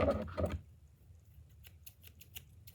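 Scissors being handled, a couple of close, sharp metallic snips at the start followed by faint clicking and rustling.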